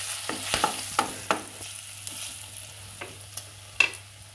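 Whole chillies frying in a pan for an aloo recipe, with scraping stir strokes at irregular intervals over a steady low sizzle, close and moderately loud with no talking.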